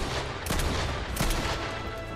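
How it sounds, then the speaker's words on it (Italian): Rapid bursts of gunfire in a Fortnite match, several crackling volleys close together over about two seconds. "Eccolo che mi spara."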